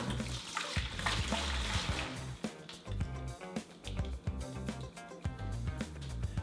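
A stirred yeast starter is poured into a sanitized bucket while brewing a cold IPA, making a steady splashing gush of liquid with gurgling pulses, close and continuous without speech.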